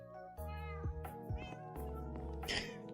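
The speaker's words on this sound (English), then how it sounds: "So many cats." Multiple cats in Minecraft meowing in quick succession, overlapping mews repeating close and clear over a continuous musical backdrop.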